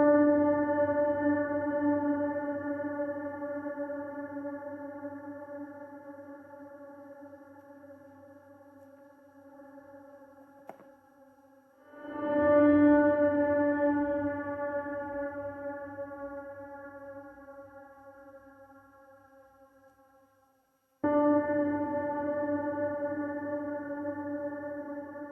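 A sustained shimmer reverb from an Eventide ShimmerVerb plugin with high decay, turning a piano note into a slow-attack pad: layered tonal wash that swells, fades slowly, and swells again, with no voices.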